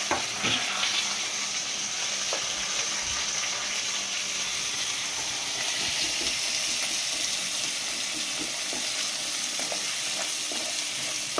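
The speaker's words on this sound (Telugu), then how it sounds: "ఉల్లిగడ్డను అయితే గోల్డెన్ బ్రౌన్ కలర్ వచ్చేదాకా వేసుకోవాలి" Plenty of onions frying in hot oil for a gongura chicken curry make a loud, continuous sizzle that holds steady throughout, with no talking.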